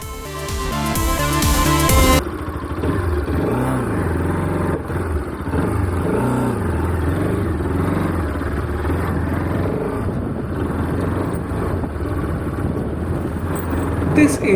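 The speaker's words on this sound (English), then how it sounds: "Let me take this bike for a ride now." A Bajaj Pulsar 200RS motorcycle with 30,000 km on it is ridden, its engine note rising and falling steadily through gear changes, loud and continuous throughout with faint wind and road noise behind.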